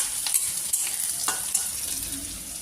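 Potatoes sizzle as they fry in a home kitchen pan, a steady crackling hiss broken by a few sharp scraping strokes of the stirring spoon.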